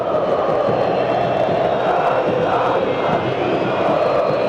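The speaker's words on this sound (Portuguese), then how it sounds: "Faz festa a torcida do Cruzeiro." A large football stadium crowd of Cruzeiro fans at the Morumbi roars and chants continuously during a 2009 match against São Paulo, a dense wall of many voices cheering at steady loudness from a distance.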